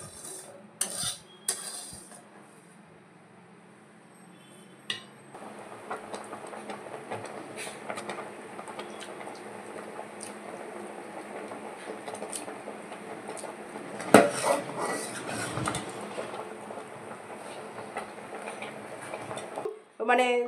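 Spatula scraping and clinking in a pot as vermicelli payesh with dry fruits is mixed, irregular metallic scrapes and taps, moderately close, with a louder burst of clatter near the middle.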